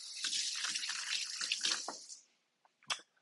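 Running kitchen tap splashing as hands are quickly washed after handling jalapeno, a steady rushing gush for about two seconds that stops abruptly, followed by a few small drips and splashes.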